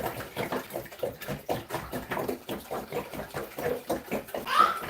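Water is poured into a gallon container for a soilless hydroponic plant setup, making close, rhythmic glugging splashes that repeat steadily for several seconds.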